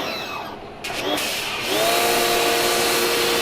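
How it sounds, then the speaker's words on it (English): A pressure washer blasts grease off recycled Mustang II truck parts, its steady loud hiss starting after a brief lull and holding strong with a constant motor whine underneath. "we come back and hit it with the pressure washer"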